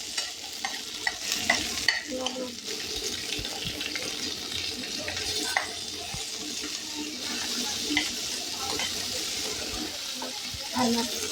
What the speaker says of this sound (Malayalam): നമ്മൾ എണ്ണ വെച്ച് കഴിഞ്ഞാൽ ഇനി ഫസ്റ്റ് കറിവേപ്പില ഇടാം.